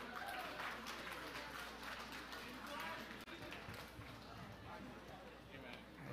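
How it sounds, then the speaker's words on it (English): An audience applauds for Maddie at a gathering, with continuous dense clapping at a distance and voices mixed in with it. "Round of applause for Maddie"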